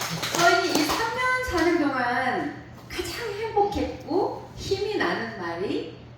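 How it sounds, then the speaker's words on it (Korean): A church congregation claps along while voices, including a child's, speak and exclaim over the applause, the clapping fairly close and mixed into lively chatter. "정확하게 맞춰서 박수 쳐주세요"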